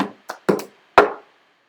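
Cup song rhythm tapped out on a cup and hands: a quick sequence of four or five close, crisp slaps and taps with short pauses, ending in a louder thump that rings briefly, with no voices.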